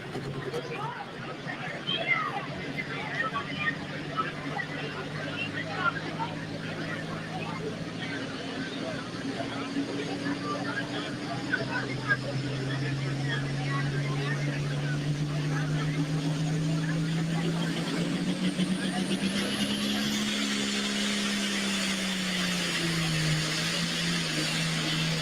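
A pulling tractor's engine roars and revs at a night tractor pull in Darlington, Wisconsin, its pitch climbing and dipping under continuous crowd hubbub and an announcer's voice.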